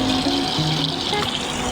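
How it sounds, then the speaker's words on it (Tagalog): Water runs steadily from a tap in a short, continuous splashing stream, close and fairly loud, with no voices. "Lagyan natin ng gripo."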